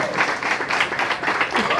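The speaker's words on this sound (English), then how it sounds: "So just a huge round of applause for everyone for pulling this together." A crowd at an inaugural JetBlue Boston to Madrid flight event applauds, brisk clapping rising in pulses under faint background voices.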